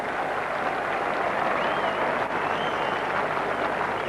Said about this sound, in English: Applause and good wishes for Mike Gatting as Chris Smith makes his way back to the dressing room.